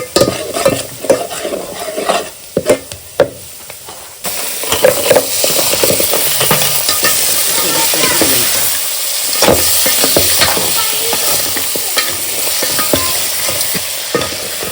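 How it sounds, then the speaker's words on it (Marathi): Onion and spice masala sizzles and fries in oil for a crab curry, with sharp stirring clatters early on, then a steady loud frying hiss that continues close-up without talk. "एक मोठा कांदा फोडणीसाठी घेतलाय बरं."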